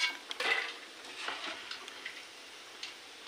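Rice-flour snacks frying in hot oil give a soft sizzle broken by faint stirring scrapes and light clinks, fairly quiet, with no one speaking.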